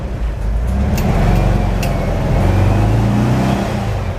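A 1968 Volkswagen Type 2 Microbus with a rebuilt 1904 engine and dual carbs runs steadily while driving, a loud, continuous air-cooled drone with shifting pitch as it accelerates.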